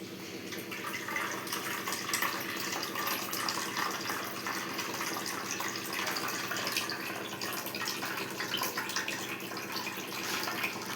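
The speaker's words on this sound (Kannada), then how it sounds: "ನೀರು ಸಮೇತನೇ ಸೋದಿಸ್ತಾ ಇದ್ದೀನಿ ನೋಡಿ" Water carrying masala puri ingredients pours steadily through a strainer, making a continuous close rushing trickle with no pauses.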